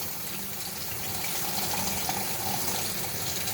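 Cold tap water runs steadily into a sink with a strainer to wash greens, a continuous close gushing splash with no pauses.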